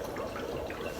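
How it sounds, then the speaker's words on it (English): Dry ice bubbling and fizzing in water as carbon dioxide releases, a steady dense gurgle with a constant level and no speech. "That's the dry ice bubbling."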